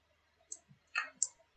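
A computer mouse clicks a few times in quick, uneven succession, sharp and close against near silence.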